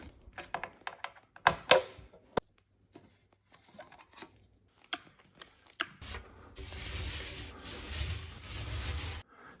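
Hand sanding inside a closet, with scattered rubbing and scraping strokes early on, then a steady, louder stretch of continuous abrasive rubbing close by in the final few seconds.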